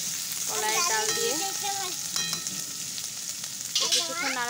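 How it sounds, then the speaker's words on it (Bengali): A kalai dal dish fries in a pan with a steady sizzle and occasional stirring scrapes, while someone talks over the cooking for most of the stretch. "একটু ভেজে নেব।"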